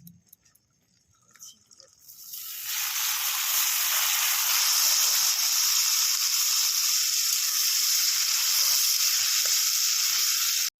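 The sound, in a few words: taro stolons frying in a wok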